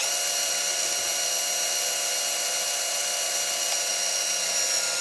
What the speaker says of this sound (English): you might need to apply a bit of pressure to get the drill started and get it through that slightly rubbery case